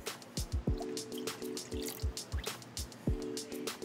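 Milk and water pour into a cooking pan, making a close gurgling, glugging stream with rising bubbly pitches and splashy drips in uneven bursts, and no talk.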